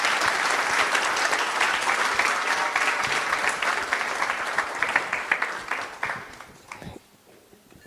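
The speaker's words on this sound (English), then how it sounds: "Another round of applause." An audience at an arts salon applauds with dense, sustained clapping that thins out over the last seconds and fades to near silence.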